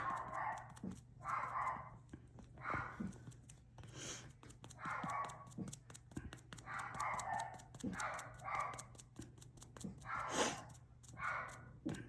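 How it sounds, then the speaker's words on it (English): Dogs barking in short repeated bursts at a distance, faint and intermittent over a low steady hum in a home where vinyl is being painted. "My dogs are barking."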